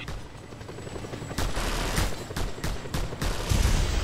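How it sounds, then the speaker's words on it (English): Gunfire and a helicopter from the Just Cause 2 video game: a dense run of sharp shots cracks repeatedly over a rumbling, steady engine bed, loud and close throughout, with no talking. "Deal with that chopper, Rico, quickly!"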